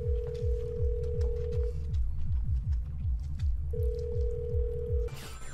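A telephone rings in two long electronic tone bursts with a pause between them, heard over a steady, pulsing beat of loud background music during a German livestream.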